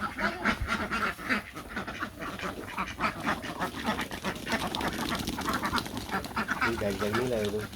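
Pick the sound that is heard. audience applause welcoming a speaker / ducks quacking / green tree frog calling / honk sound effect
ducks quacking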